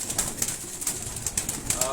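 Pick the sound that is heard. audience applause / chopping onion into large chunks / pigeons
pigeons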